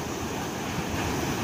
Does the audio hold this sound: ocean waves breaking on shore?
yes